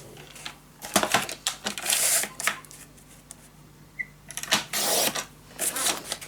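Scissors slicing down the full length of a sheet of scrapbooking paper for a Christmas mini album, a series of crisp snipping bursts close by, with a longer cutting run near the start and another later.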